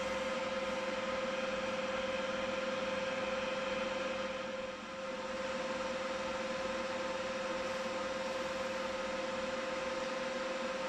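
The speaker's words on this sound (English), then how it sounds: "Now the build plate's going down." The build plate of a 3D printer is lowered, giving a steady low motor hum with a constant electrical whine, fairly quiet and unbroken, with no talking.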